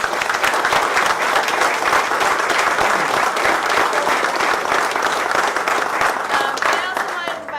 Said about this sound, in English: So I want to give you guys a whole round of applause.